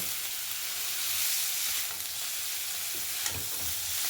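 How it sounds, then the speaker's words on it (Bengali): Fish pieces fry in ghee with a loud, dense, unbroken sizzle, a close steady crackling hiss with a few soft stirring scrapes near the end. "মাছগুলোকে দিয়ে কিন্তু ওই ঘিয়ে ভালো করে ভেজে নেব"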